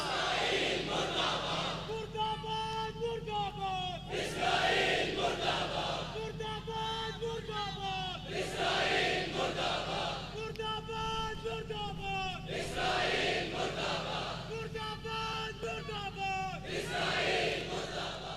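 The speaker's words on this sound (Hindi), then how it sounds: "सब मिलकर बुलंद आवाज से दोनों हाथ उठाकर फिजा में मुर्दाबाद मुर्दाबाद इसराइल" A large crowd at a Yawm Al Quds rally in Lahore chants slogans against Israel in unison, repeated rhythmic shouted phrases roughly every four seconds, loud and massed with a leader's voice setting the cadence.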